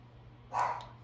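A dog gives a single short, fairly loud bark over a steady low hum, with no talking.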